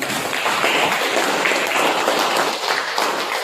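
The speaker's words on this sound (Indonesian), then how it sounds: "Aplaus dulu untuk kelompoknya Arif." Classroom applause for a student group, dense steady clapping from many hands filling the room at close range, lasting the whole stretch without a break.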